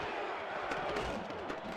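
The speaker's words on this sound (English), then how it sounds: "This crowd is loud. This crowd is on their feet," A loud football stadium crowd on its feet cheers in a thick, unbroken roar, with a few sharper shouts and thumps rising out of the steady din.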